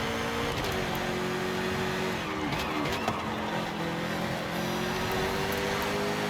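Jaguar SVR in Forza Horizon 5, its engine droning and pulling hard under acceleration on a race track, a steady loud tone with rising and falling pitch and faint tire noise, no talk.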